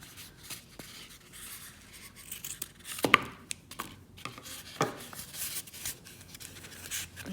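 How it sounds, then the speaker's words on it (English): Excess material trimmed off a handmade winter craft gnome, heard as close, scratchy cutting and snipping strokes with a couple of sharper snips, no talking. "I'm going to trim this little excess bit off here."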